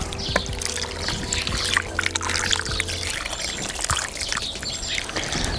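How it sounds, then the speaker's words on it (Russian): Water is poured onto lamb marinating for a tandoor. A soft, steady trickle and splash runs outdoors, with birds chirping faintly in the background. "Наверное, воды я добавлю."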